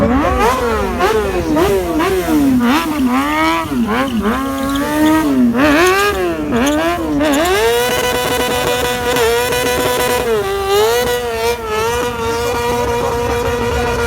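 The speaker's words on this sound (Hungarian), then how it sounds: "ilyenkor föl van tekerve az alapjárat, durván egy olyan 1200-ra" A stunt motorcycle engine holds a raised idle around 1200 rpm, a loud, steady, close-up drone with harmonic wavering and small rev swells throughout.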